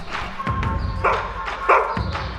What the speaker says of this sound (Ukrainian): Такий веселий гавкіт сигналізує, що під завалами жива людина.